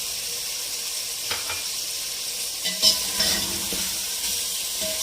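Chicken seasoned with salt and crushed red chilli frying in a pan, a steady close sizzle with a few scattered stirring scrapes and a sharper clink near the middle, no speech.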